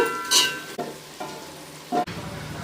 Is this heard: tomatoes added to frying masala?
yes